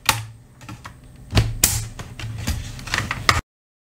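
Plastic snaps on a Dell Inspiron 14 laptop bottom case being pried up one after another, a series of close, sharp clicks and taps, with a few louder pops, then silence.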